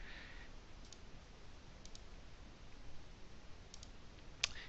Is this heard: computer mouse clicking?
yes